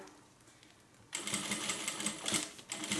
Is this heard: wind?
no